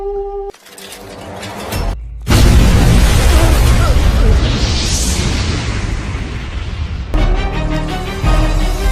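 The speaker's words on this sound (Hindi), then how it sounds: "मतलब इतना बड़ा धमाका हुआ है" A sudden loud blast erupts and roars on as a sustained rumbling burst for several seconds, preceded by a brief quieter passage.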